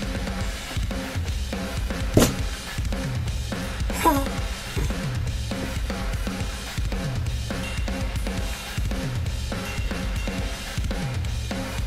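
A soloed drum part from a cover of a video game battle theme pounds along in a dense, steady groove of hits and cymbal splashes, ending with a fill.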